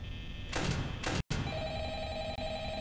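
A telephone rings in the video game Five Nights at Freddy's, two bright bell bursts against a low droning hum, followed by a brief dropout and a steady electronic tone.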